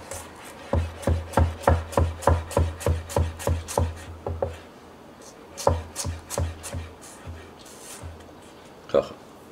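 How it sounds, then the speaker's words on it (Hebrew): Knife chopping vegetables on a cutting board: a fast, even run of about fifteen crisp close thuds, then a pause and a looser, slower cluster of chops, with a voice talking in the background. "עכשיו את זה אני חותך"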